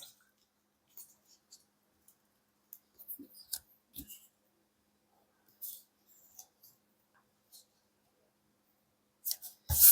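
Scissors trim paper for a Bible junk journal in a few quiet, scattered snips and light clicks, with long silent gaps between them.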